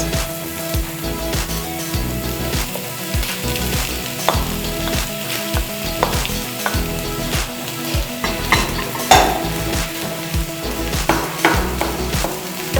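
Potatoes fry in a pan for a Spanish omelette with beef frankfurters, a steady loud sizzle broken by repeated scrapes and knocks of stirring against the pan.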